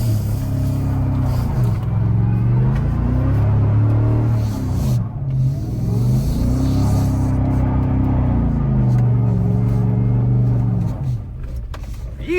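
A 2024 Ford Raptor R pickup spins donuts in a snowy parking lot in two-wheel drive, its engine droning loud and steady with rising and falling revs in repeated sweeping waves.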